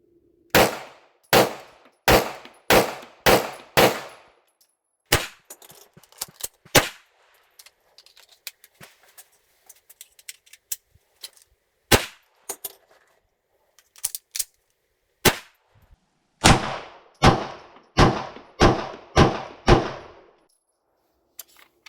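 Canik TTI Combat pistol fired in quick strings, sharp loud cracks in rapid groups of five or six with short pauses and smaller metallic clinks between.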